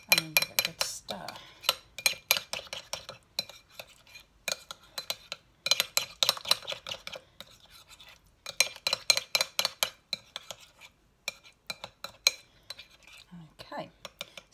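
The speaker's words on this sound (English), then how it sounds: "And then give it a good stir." A spoon clinks and scrapes against a bowl while stirring yogurt mixed with a few flavour drops, giving close, bright bursts of rapid tapping in irregular rhythm with short pauses.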